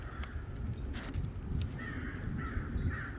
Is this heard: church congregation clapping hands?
no